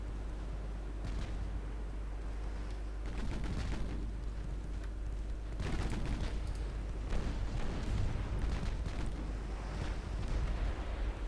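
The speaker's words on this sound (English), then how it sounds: "One wall of torpedoes going out." A warship launching a wall of torpedoes in Ultimate Admiral Dreadnoughts produces a constant deep rumble broken by clustered bursts of thumping, crackling launch noise.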